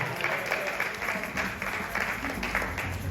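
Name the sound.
congregation applause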